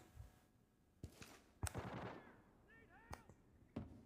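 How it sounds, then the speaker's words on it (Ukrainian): Gunfire in the shooter game Arena Breakout: several sharp reports at irregular intervals, one heavier burst with a rumbling tail near the middle, heard at moderate distance amid faint game ambience. "і де ж ви там стріляєтесь, зарази?"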